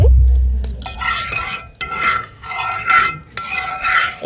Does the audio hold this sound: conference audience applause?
no